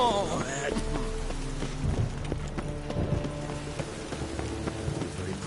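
Steady rain in The Witcher video game falls as a continuous hiss, with horse hooves clopping and faint game sounds mixed in, alone without talk.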